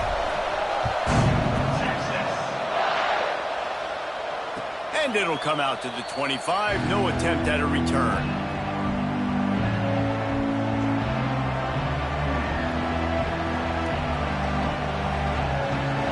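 A broad stadium crowd roar at a Texas vs. Kentucky college football game fills the background, swelling loudly as a commentator speaks over it, with a dense rumbling din toward the end.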